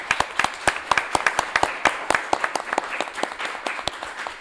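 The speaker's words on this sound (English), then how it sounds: "If I could get a quick round of applause for our amazing panel members." Audience applause for a fundraising event's panel members, a steady crowd of dense, overlapping hand claps held at even loudness for several seconds.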